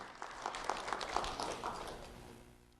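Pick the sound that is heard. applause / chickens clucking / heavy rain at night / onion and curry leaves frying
applause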